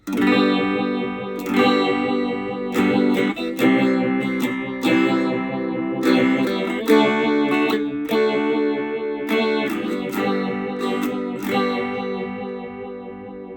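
Distorted electric guitar chords played through a MOVALL Van Golem phaser pedal with feedback turned down, giving a gentle sweeping, slightly less resonant tone, with steady strums and sustained notes.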